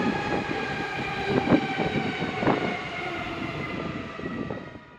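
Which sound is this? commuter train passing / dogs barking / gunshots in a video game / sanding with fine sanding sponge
commuter train passing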